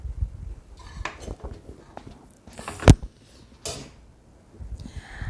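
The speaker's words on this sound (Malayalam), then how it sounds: "അപ്പോൾ ചോറെല്ലാം നന്നായിട്ട് മിക്സ് ചെയ്തെടുക്കുക" Coconut rice, cooked in a pressure cooker, being mixed in the pot, with scattered scraping and clinking of a spoon against metal and one sharper knock near the middle, fairly quiet, with no talk.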